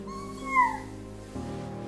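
A single high, gliding meow-like cry rises and falls over a soft background hum, a young child imitating a cat.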